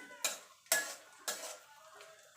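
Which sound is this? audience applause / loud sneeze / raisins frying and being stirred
raisins frying and being stirred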